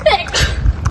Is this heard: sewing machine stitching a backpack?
no